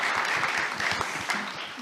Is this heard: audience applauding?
yes